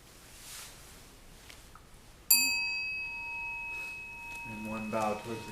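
A meditation bell at a Zen Buddhist Sunday program rings once with a sharp bright strike and a long sustained shimmering tone, then a voice starts speaking near the end while the ring fades.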